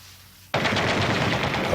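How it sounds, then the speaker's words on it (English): Machine gun fire in a Vietnam war setting erupts suddenly after a quiet moment, a dense, sustained rattling burst with a rapid rhythm. It carries on loud and unbroken to the end. "A machine gun, you could hear it in the distance, started to level the area."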